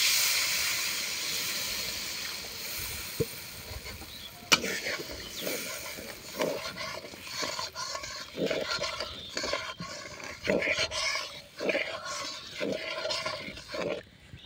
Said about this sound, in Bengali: সুন্দর কিন্তু ঝোলটা ফুটে গেছে।